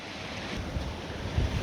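Sea waves wash in on a beach, a continuous soft surf rumble with wind buffeting the microphone and no talking.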